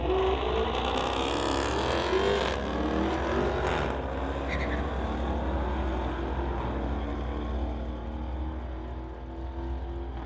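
At a street-legal drag race, a 2017 Dodge Charger and a 2019 Camaro roar down the strip together, a loud, sustained engine drone that holds for the whole run as the cars pull away.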